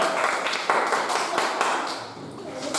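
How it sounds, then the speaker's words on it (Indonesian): A class of students claps together in an Indonesian-language lesson, a dense burst of close applause lasting a few seconds, with some voices mixed in. "Beri dulu tepuk tangan."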